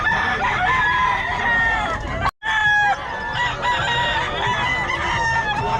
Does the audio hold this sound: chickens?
yes